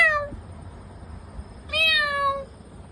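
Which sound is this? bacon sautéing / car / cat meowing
cat meowing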